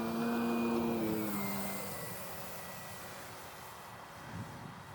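Small 20cc gas engine of a Hangar 9 Pawnee Brave RC plane on takeoff in a light crosswind, a steady droning buzz that is loudest at first and then fades slightly as the plane pulls away.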